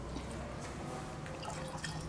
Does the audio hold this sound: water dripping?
yes